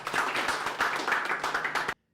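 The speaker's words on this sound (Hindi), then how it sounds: "जोरदार तालियों से उनका स्वागत करें।" An audience claps loudly to welcome agricultural experts onto the stage at a farmers' forum, a dense, steady burst of applause close by that stops abruptly.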